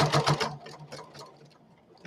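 A sewing machine stitches fabric in a rapid, close mechanical chatter that is loudest at first and then eases into softer, slower ticking.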